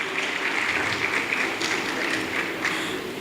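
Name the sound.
audience applause at a career fair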